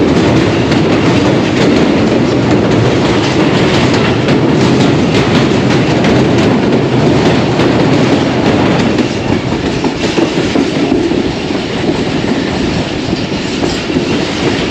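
A passenger train runs at full speed on rails past a station's outer signal on a foggy morning, a loud, steady rushing roar with rapid clickety-clack wheel beats throughout, close and continuous.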